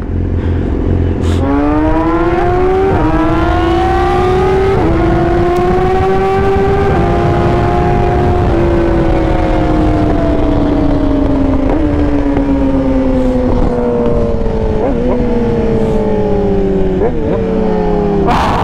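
A Yamaha R6 track motorcycle on slicks, ridden on the street, revs loud and close, its engine note climbing and falling through repeated gear changes with sharp blips on each downshift.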